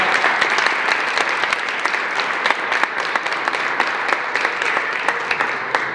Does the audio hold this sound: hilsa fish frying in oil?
no